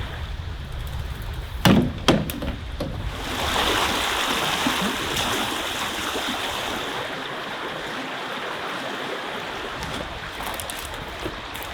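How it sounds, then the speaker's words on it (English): Rushing white water rapids on a river by a campsite in Algonquin, a steady broadband roar of churning current with a couple of brief knocks near the start. "I can't deal with this white water up here"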